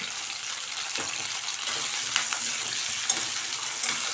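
Shallots, garlic and curry leaves sauté in a pan for fenugreek kuzhambu, giving a steady broadband sizzle with occasional stirring scrapes and taps, close and continuous with no talking.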